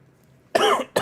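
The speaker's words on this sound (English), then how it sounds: "Excuse me, coughing." Two quick, harsh coughs close to the microphone after a moment of near silence, the second one shorter.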